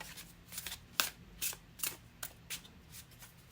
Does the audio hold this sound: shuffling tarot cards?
yes